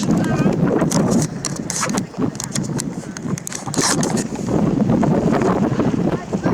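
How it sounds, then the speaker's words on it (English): Strong wind batters the microphone with heavy, continuous rumbling and crackling gusts, and a voice is faintly mixed in. "really windy."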